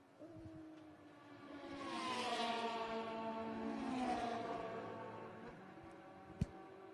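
Race cars at Road America climb the hill from turn 5 into turn 6 beneath the Corvette bridge, engines swelling past and fading, with a sharp knock near the end.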